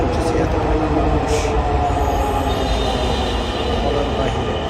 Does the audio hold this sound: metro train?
yes